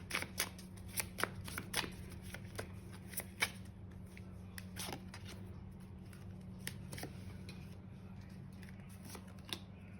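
Tarot cards are shuffled and picked in a quiet room, a run of sharp papery riffles and flicks clustered early, then sparser single snaps and slides over a faint steady hum.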